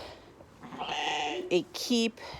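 Sheep bleat close by on a hay farm, a few wavering calls near the end after quieter animal sounds.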